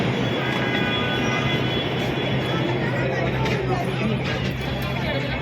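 A steady, loud rumble of a metro train in motion fills the clip, with a constant hum and faint murmur of passengers in the carriage.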